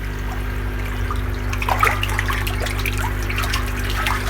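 Water drains from a nearly empty tilapia fish tank in a steady trickling, gurgling flow with a low hum beneath it, close and moderately loud, with no talking.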